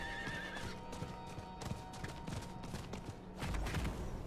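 In Diablo IV, a horse gallops with rapid rhythmic hoofbeats and lets out a whinny, the sounds fairly faint beneath game ambience.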